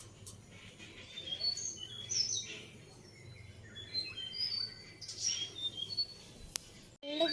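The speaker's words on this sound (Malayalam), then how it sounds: "കിളിയുടെ കൂട്ടം അവിടെ അന്വേഷിക്കുന്നുണ്ട്" A flock of small birds chirps and tweets in scattered, quick bursts, faint and somewhat distant, over a low, quiet background.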